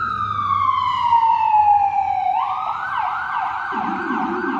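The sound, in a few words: emergency vehicle siren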